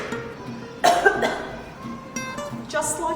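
A person coughs into a tissue to show how it is done: a couple of sharp, close coughs, with a brief vocal sound in between.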